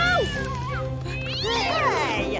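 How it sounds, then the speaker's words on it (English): A cartoon cat in Mr. McGregor's garden gives several loud, drawn-out meows with rising and falling pitch, filling the whole moment over a steady music bed. "the dangerous rabbit-eating cat right next to you"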